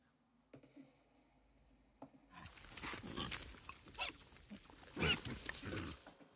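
Wild boar grunt in a German hunting region, starting with faint quiet rustling and then breaking into a run of close, rough grunts and snorts over the second half.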